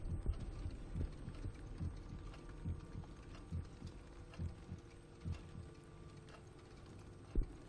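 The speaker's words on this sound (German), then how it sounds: "Okay, der Herzschlag hat aufgehört." A low, muffled heartbeat from the horror video game Song of Horror thumps in a steady, regular rhythm over a faint background hum, with no talking.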